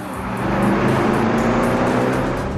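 Wiesmann GT sports car with a BMW V8 engine lapping a slippery race circuit, a loud, steady high-revving engine roar with strong harmonic tones that hold close and continuous throughout.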